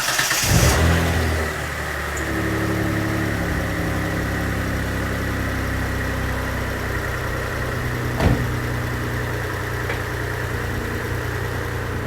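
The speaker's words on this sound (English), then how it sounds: "So let me get started and let's fire the car." A 1992 Mitsubishi 3000GT VR4 with an overheating problem fires up with a brief loud start burst, then settles into a steady even idle heard close and alone for several seconds, with a faint click midway.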